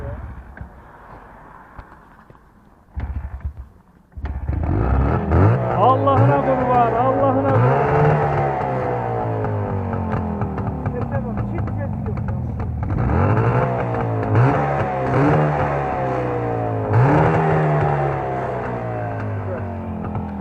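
A Jawa 350 Twin Sport two-stroke twin motorcycle starts up after a brief sputter and runs loudly nearby, its engine revving up and down in repeated surges with a steady idle between.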